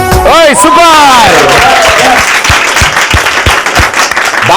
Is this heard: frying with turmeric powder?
no